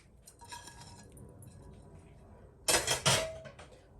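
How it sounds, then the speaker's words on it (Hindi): Chopped onions tipped into a chicken biryani pot, a couple of sharp bursts of clatter and clinking around the three-second mark after a quieter stretch of low kitchen background. "अब मैं बचा हुआ ये सारा डाल दूंगी प्याज।"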